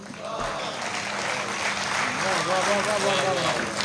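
An audience applauds during a devotional Radhe Radhe recitation, a sustained wash of clapping that builds slightly toward the end, with voices mixed underneath.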